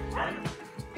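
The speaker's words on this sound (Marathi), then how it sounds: "कुत्री भुंकतायत." Dogs bark outdoors at night, a quick pair of yappy barks at moderate distance within a brief moment, with no other sound standing out.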